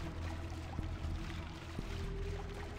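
Murky sewage water sloshes steadily as a character wades through it in Deus Ex: Human Revolution, a continuous watery rush with a few soft splashes and a low hum underneath.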